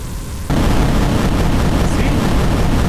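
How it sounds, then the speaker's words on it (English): A loud, dense explosion effect from a video game under development bursts in abruptly after a brief quiet stretch, then roars on as a sustained, noisy rumble filling the rest of the clip. "when it hits us, it has its own explosion"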